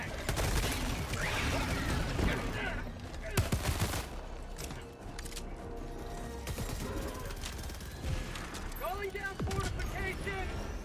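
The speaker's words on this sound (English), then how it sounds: "Guns." Gunfire from weapons in the Helldivers video game, bursts of shots and impacts crackling continuously throughout a busy battle mix, with players talking over it.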